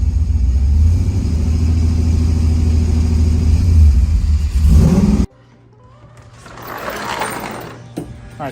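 Car engine with a nitrous kit installed revving hard in a loud, sustained roar for about five seconds, then cutting off abruptly to a quieter idle with a brief swell of noise.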